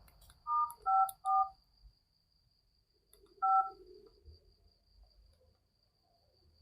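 A touch-tone telephone keypad beeps three times in quick succession, then once more after a pause. Faint, steady insect chirping runs underneath.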